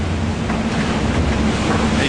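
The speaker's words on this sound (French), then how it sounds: "Là en ce moment j'ai encore une mer assez formée" Rough, heavy sea surging around the solo round-the-world sailing boat Sodeb'O in about 29 knots of wind, a steady broadband wash of waves and wind noise close to the microphone, with no gaps.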